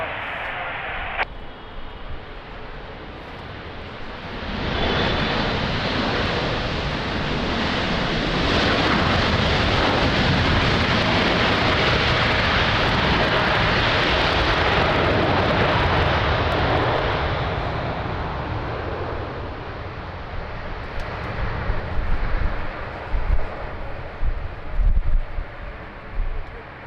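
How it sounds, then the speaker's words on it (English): An Emirates Boeing 777 landing on runway 20 at Lisbon Airport in strong gusty wind, its engine roar swelling into a broad loud rumble, then fading into buffeting wind noise and scattered bumps. "Beautiful landing, Emirates 777."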